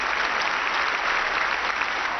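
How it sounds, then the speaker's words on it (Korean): Sustained applause from a large crowd at a conclave-related papal gathering, dense and steady clapping filling the whole stretch without pause or talk. "박수는 길게 이어지고 있었습니다."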